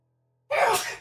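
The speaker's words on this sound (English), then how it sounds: "Sneeze. Felt it. Didn't have enough time to mute, though." One sudden, close sneeze breaks a quiet stretch, sharp at the start and trailing off quickly.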